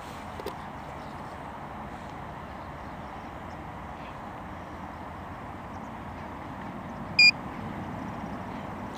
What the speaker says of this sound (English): That was the 1 minute beep.